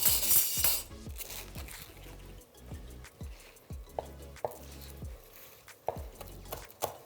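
A knife finely slices scallions on a cutting board, making a dozen or so close, crisp chopping knocks in an uneven rhythm, with a brief clatter at the start.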